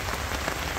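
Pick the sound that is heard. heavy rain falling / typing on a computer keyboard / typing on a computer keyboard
heavy rain falling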